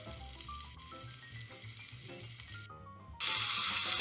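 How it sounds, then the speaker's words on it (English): Vegetarian sausages sizzle and brown in a saucepan, giving a continuous close frying hiss with faint crackles that grows louder and brighter near the end; no one speaks. "our sausages are starting to cook here in our saucepan. And they're starting to brown"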